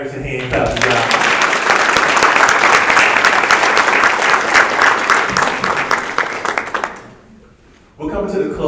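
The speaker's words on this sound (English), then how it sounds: "Let's get all our graduates in hand clap" Graduates and families applaud at a Pitt County RRS graduation ceremony, a loud, sustained round of many hands clapping for about six seconds that tapers off before a voice resumes speaking.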